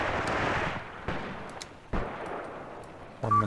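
Mortar fire in the Graviteam Tactics Mius Front war game: a background rumble of battle broken by a few sharp, distant-sounding reports spaced about a second apart. No voices.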